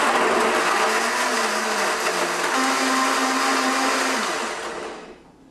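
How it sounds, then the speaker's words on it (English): A blender whirs loudly and steadily up close as it blends a raw green smoothie with dates, its motor pitch shifting slightly before winding down and stopping. "Put the lid on it and blend away for a couple of seconds."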